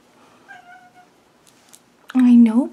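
A pet cat meows loudly and close by near the end, a strong drawn-out cry after a quieter stretch with a few faint earlier mews, in a home setting during a makeup routine.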